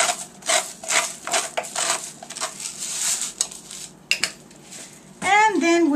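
Nopalitos salad with fresh pepper and salt being tossed in a bowl, a run of close clinks and scraping knocks of utensils against the dish, then a voice speaks.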